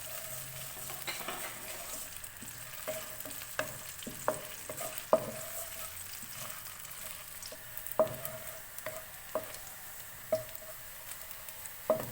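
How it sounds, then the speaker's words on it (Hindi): Four cloves of finely chopped garlic frying lightly in a pan give a soft, steady sizzle broken by scattered clicks and taps of stirring, quiet and without talk. "4 लहसुन के जवे इनको डालेंगे, हल्का सा फ्राई करेंगे।"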